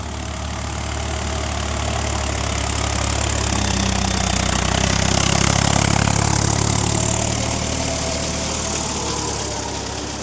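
Swaraj 744 XT 4WD tractor engine working a wet paddy field with a new plough, a steady loud diesel drone with a low rumble that swells slightly mid-way and holds without pause.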